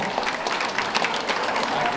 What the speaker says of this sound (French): Est-ce qu'on peut encore applaudir très fort le docteur qui a fait le déplacement?